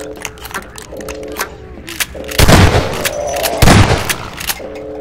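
Shotgun fire at zombies in a Half-Life 2: Episode Two mod: two loud, close blasts about a second apart stand out over quieter game noise, tonal hums and a few softer clicks and thumps.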